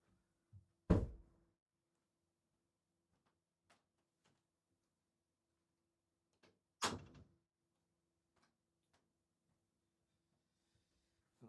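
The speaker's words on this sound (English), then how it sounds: "close the office door" An office door is shut, one loud close thump followed several seconds later by a second solid thud, with faint small clicks between in an otherwise quiet room.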